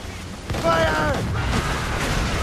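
Incoming cannon fire in an Assassin's Creed Rogue naval battle, with a heavy boom that thuds in after a moment, then rolling rumbles and crackling blasts, mixed with shouting voices.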